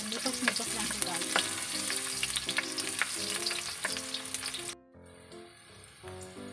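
Garlic and onion sautéing in oil for pancit bihon, a steady sizzle with bright stirring scrapes and clinks that drops off sharply near the end, leaving a quieter crackle.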